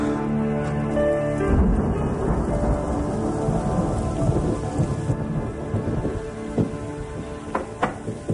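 A thunderstorm rumbles loudly through heavy rain pattering on surfaces, with a deep roll of thunder early on and then continuous dense rain and scattered drips, no voices.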